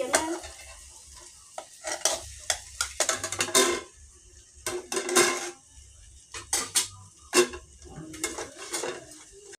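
A lid clanks onto a metal cooking pot of fish curry with a cluster of sharp metallic knocks and rattles, separated by quiet gaps, close and fairly loud.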